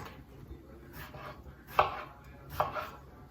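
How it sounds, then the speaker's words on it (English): A knife slices through tomatoes on a cutting board for shakshuka, producing a few soft, separated cuts, with two sharper taps on the board. "Just need to slice this tomatoes."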